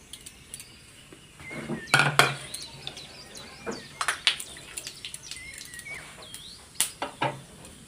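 Cumin seeds crackle and pop in hot oil along with whole spices such as cinnamon and bay leaf, giving irregular sharp snaps and light clinks spread across the stretch, close by, with no talking.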